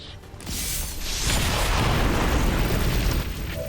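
A deep, rumbling explosion in the video game XCOM 2: War of the Chosen swells and lingers as a sustained roar with crackling debris, loud and close, without any talking.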